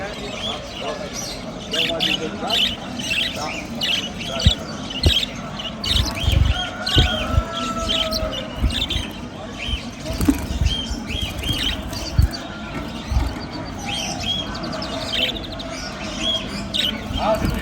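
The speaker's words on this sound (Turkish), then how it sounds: "Bunlar da Mozambik kanaryaları arkadaşlar." Mozambique canaries chirp and squawk continuously at an exotic animal market, with scattered wing flaps and busy crowd chatter mixed in.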